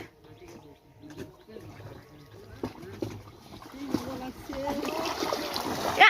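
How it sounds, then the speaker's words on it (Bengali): A wooden fishing boat is pushed by a group into a large Sundarbans river, with voices calling and water splashing and sloshing that grow louder toward the end. "এইখান থেকে সবাই মিলে নৌকাটা নদীতে নামানো হচ্ছে"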